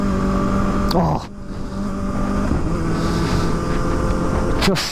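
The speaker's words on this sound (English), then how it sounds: "just such a good little backfire pop sound on this thing." A Kawasaki ZX-4RR motorcycle with a flashed ECU rumbles and revs under load, with sharp exhaust pops and crackles cutting in near the start and again at the end, close and loud.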